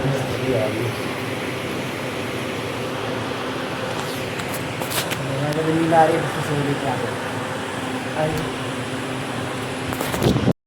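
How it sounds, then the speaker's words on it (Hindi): An air cooler running indoors gives a steady whooshing fan drone throughout, with a voice speaking briefly over it and a few soft clicks near the end. "गाइस अभी कूलर चलना हो गया चालू, देखो आवाज़ आ रही है"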